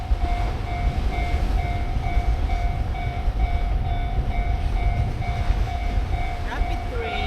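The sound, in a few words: train passing in Otaru, Japan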